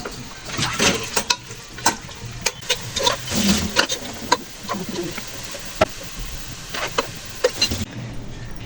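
Sliced onions fry in hot soybean oil while beef biryani is being cooked, giving a continuous close sizzle broken by irregular scraping and stirring clacks, with no talk.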